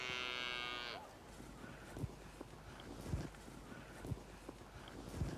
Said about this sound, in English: A bull.